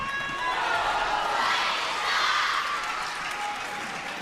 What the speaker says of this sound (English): The crowd now growing louder, chanting the name of Yingsha.